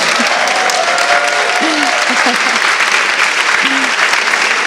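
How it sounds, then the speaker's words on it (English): Steady audience applause fills a political talk on the financial crisis, clapping for an academic speaker, dense and continuous throughout with a few faint voices over it. "I didn't give you a chance to clap, Leo"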